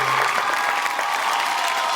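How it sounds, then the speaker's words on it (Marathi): Audience applause at a women's friendship game show after a traditional lagori match, dense and steady clapping that stays loud and even for the whole stretch with no voices over it. "जोरदार टाळ्या झाल्या पाहिजे"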